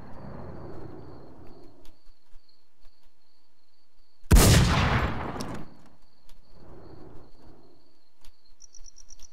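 A single loud, booming AW Magnum sniper rifle shot fires in the WarZ video game, its blast decaying over about a second against a quiet backdrop of faint chirping ambience.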